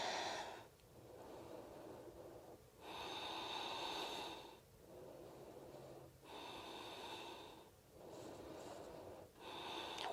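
Deep, slow breathing during a yoga pose, with long audible inhales and exhales repeating in a steady rhythm, close and quiet, with no talk.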